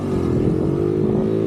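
A $200 race moped engine revving at full throttle, a steady buzzing high-pitched drone held at constant speed, close and loud with no voices.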